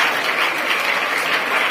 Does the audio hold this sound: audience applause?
yes